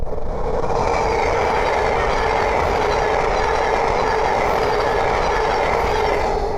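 A Thameslink Class 700 electric train passes close by on the East Coast Main Line at Great Wymondley, a loud, sustained rushing roar of wheels and air that holds steady throughout.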